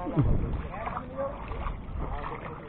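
A fishing boat heading out to sea at Padre Burgos moves across water with a low rumbling wash and wind buffeting the microphone while people talk nearby.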